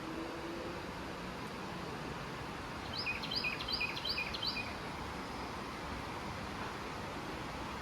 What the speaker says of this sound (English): if I'm quiet enough, you might be able to hear the water and the birds.